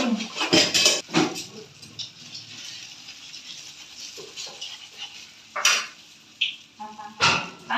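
A knife slices through a homemade sushi mentai roll on a board, producing several close, sharp knocks and clicks spaced irregularly over quiet background, with no speech.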